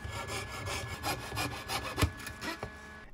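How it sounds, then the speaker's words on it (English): A small hand saw cuts a partition board for a model railroad dining car, a quick rhythmic run of close rasping strokes, fairly quiet, with no talk. "I'll cut the partition board."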